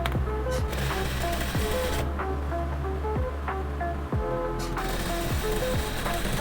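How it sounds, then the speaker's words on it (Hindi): A sewing machine runs steadily, stitching over the elastic on a trouser waistband, its needle ticking in a fast, even rhythm for several seconds with a few brief pauses, loud and close with no talk. "यहाँ पे मैंने एक सिलाई लगानी है इलास्टिक के ऊपर"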